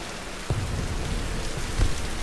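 Heavy rain pours steadily in a Tomb Raider game, a dense, continuous hiss with a couple of low thuds rumbling underneath, loud and alone with no voices.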